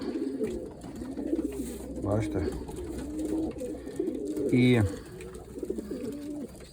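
Pigeons cooing in a pigeon loft with a white pigeon and a yellow hen among them, repeated soft low coos near the microphone while someone talks over them.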